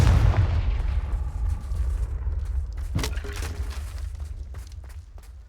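A Confringo blasting spell explodes in Hogwarts Legacy: a deep rumbling burst at the start, then a sharp crack midway with scattered impacts and a fading boomy tail.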